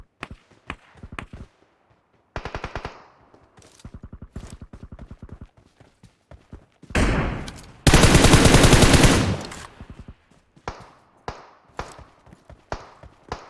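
Gunfire in the battle royale game PUBG on the Livik map: bursts of single taps, short automatic strings and one long sustained spray, some nearer and some farther, with gaps between volleys.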